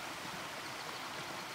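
A small river in Eastern Idaho flows past, its soft, steady rush and gurgle heard at low volume as an even wash of water noise with no voices.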